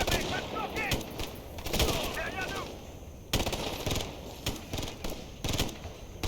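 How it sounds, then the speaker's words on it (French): Enemy gunfire in the video game Ghost Recon Future Soldier: repeated sharp shots and short automatic bursts, fairly close, spread across the whole stretch alongside other game noise. "Pourquoi j'entends un mec tirer ici, là?"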